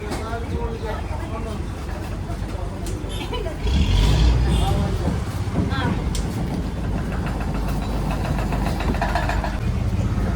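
A ferry boat engine idles at a jetty with a low, steady throb close by, while people talk and call out over it.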